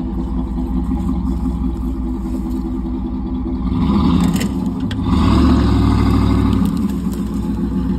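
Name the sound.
Cadillac Escalade engine revving while pulling out a Honda CR-V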